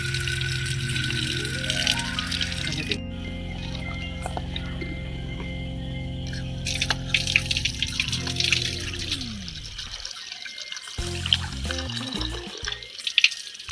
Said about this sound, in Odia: ଏ ତପୁ ଏବେ ରସୁଣ ପୁରା ସାଇଜରେ ପୁରା ଧୋଉଛି